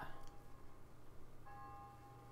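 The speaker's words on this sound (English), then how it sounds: "if you turn up your volume, you can hear the bell" A faint bell tone rings out with a sustained, shimmering ring that fades slowly over steady low background hum, starting with a brief strike and a second ringing partway through.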